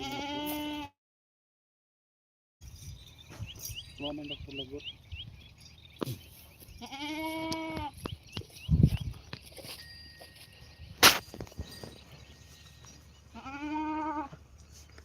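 Goats on a farm bleat repeatedly, several wavering cries near and loud scattered through the stretch, with rustling, a thump and people talking quietly in the background.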